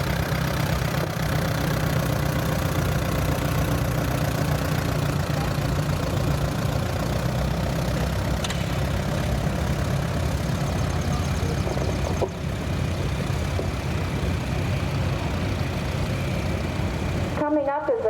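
A restored 1948 Allis Chalmers C tractor rolls by in an antique power parade, its engine chugging in a loud, steady low rumble that runs the whole stretch without letting up.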